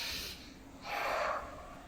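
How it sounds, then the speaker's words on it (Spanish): Close, audible human breathing, an inhale followed by a longer breathy exhale with a slight nasal snort quality, heard alone in a quiet setting. "El otro sonido es respirar."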